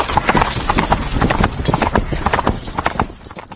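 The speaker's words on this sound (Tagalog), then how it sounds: "Naririnig ko ang yabag ng mga kabayo habang pinapasok ng mga alila sa koral." Horses' hooves clip-clop steadily on hard ground as servants lead the animals into a corral at a palace, a busy, continuous clatter of many hoofbeats heard up close.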